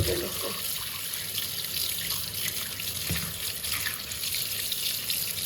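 Tap water runs steadily into a bowl as lentils are rinsed to wash out grit, a continuous close splashing flow with no speech over it.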